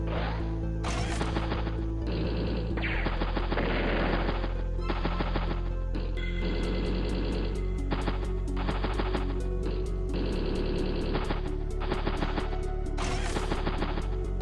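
Video-game battle gunfire from Advance Wars: Days of Ruin during a seaplane attack, with rapid bursts of shots and crashing hits over steady game music throughout.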